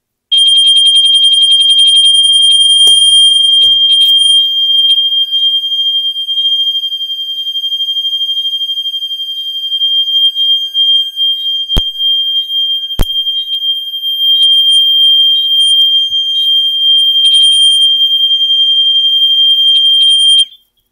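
Gentex Mini-Sounder on a fire alarm panel sounds a loud, steady high-pitched electronic tone that runs almost unbroken for about twenty seconds, with two sharp clicks near the middle.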